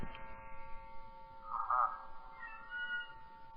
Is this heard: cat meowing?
yes